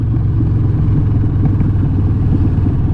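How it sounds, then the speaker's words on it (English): A loud, steady Harley-Davidson Sportster 1200C motorcycle engine rumble, close by, running continuously with a deep throaty drone and slight rising intensity as it accelerates. "This is a fun motorcycle, and it's loud. Hear that? Let's give it a little acceleration."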